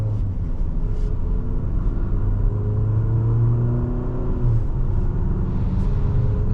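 A 2026 Infiniti QX60 Autograph accelerates hard in a 0 to 60 run, heard from inside the cabin as a steady engine rumble and rising whir that stay loud and continuous throughout.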